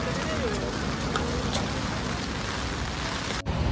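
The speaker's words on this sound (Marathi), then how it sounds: "पावसाचं नाव घेतला आणि पाऊस पण आलो" Rain falls steadily in Mumbai, a constant broadband patter close by and fairly loud, running without pause, with a brief thump near the end.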